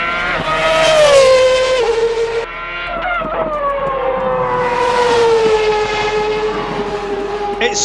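A Formula One car engine in a racing sim whines at high revs, pitch sliding down and rising again as it shifts and accelerates, loud and continuous throughout.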